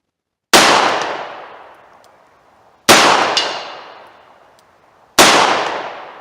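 .357 revolver shots fired at a target outdoors, three sharp loud cracks spaced about two and a half seconds apart, each with a long decaying echo.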